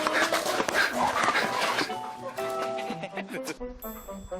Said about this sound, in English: The dog is all over our camera crew. He's overly frisky.